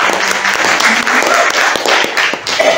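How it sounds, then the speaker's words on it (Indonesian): Audience applause at a business selling and closing session: a steady, dense wash of many hands clapping throughout, fairly loud and near, with no talk over it. "Tepuk tangan dulu dong."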